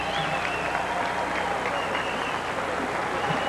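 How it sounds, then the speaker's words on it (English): Boxing fans give a dense round of applause after the fight, a steady wash of many hands clapping with crowd murmur that holds evenly throughout at moderate loudness. "Now they hug, and fans give them a nice round of applause as they go to the judges' scorecards."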